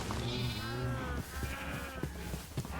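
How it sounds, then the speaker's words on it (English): Minecraft sheep bleat in several wavering, nasal calls close by, overlapping with clicks and footstep-like game noises. "we'll just shear some sheep"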